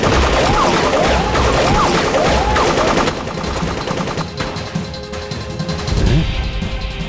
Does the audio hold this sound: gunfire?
yes